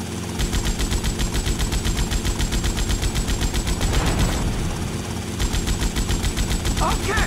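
Machine gun fired from a helicopter in GTA Vice City, rapid continuous automatic bursts over a rotor and engine drone, loud and close, with a short pause before firing resumes.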